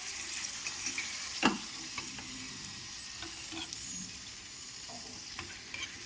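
Potatoes frying in oil in a wok give a steady, faint sizzle with occasional sharp clinks and scrapes of stirring, and no voices.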